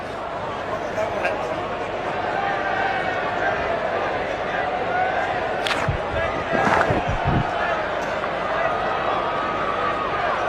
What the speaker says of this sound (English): Oh, the crowd are loving it, and so am I.